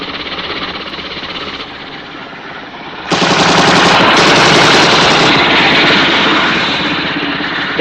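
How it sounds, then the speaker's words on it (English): Machine-gun fire from a helicopter in the 1967 Captain Scarlet and the Mysterons TV series: a steady mechanical drone that bursts into loud, sustained rapid gunfire rattling close for several seconds. "Destiny Angel, helicopter A42 is firing at me"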